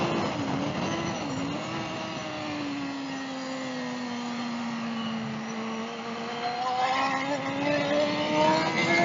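Motorcycle engine droning steadily from the rider's position as the bike leans through a corner, pitch sagging and then rising with a downshift near the end, with wind rush throughout.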